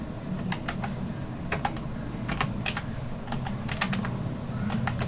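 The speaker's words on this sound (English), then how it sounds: "First of all, in Google, you have to type KV Sangadan" Keystrokes clatter on a computer keyboard as a website name is typed, quick irregular bursts of clicks over a steady low background hum, fairly close and moderately quiet with no talking.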